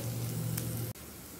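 Vegetables with curry leaves fry over a low flame for sabudana upma, giving a steady, close sizzle and crackle that runs without pause. A brief drop in level comes near the end before the frying noise returns.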